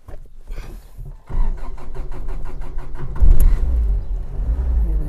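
A car with air conditioning cranks with a rapid stuttering whir from its starter for about two seconds, then the engine catches with a loud surge and settles into a steady close idle, out on a farm in Saudi Arabia.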